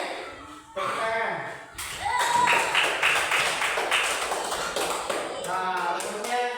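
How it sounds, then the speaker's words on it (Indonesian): A small class claps hands in a short burst of taps and slaps, close and fairly loud, with voices talking and chuckling over it. "Tepuk tangan."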